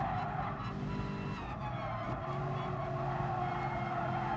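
A car in the Gran Turismo Sport racing game brakes hard into the first corner at Suzuka after a straight, with a steady engine drone and tyre skid that hold loud and continuous throughout.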